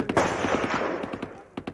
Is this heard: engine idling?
no